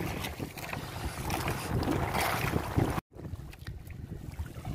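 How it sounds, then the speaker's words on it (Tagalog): Steady wind roars and buffets the microphone over open sea on a fishing outing under a darkening rain sky, loud and continuous, with a brief dropout partway through before the gusting resumes. "lakas pa ng hangin."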